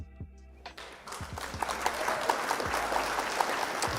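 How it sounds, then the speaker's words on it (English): Applause sound effect after a won card game match, starting with a few scattered claps, then building into a dense, steady crowd clapping that carries on to the end. "Round of applause for opponent."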